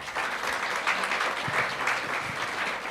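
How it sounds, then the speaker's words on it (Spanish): A church congregation applauding, a steady, even wash of many hands clapping together for about three seconds. "Dale un aplauso al Señor"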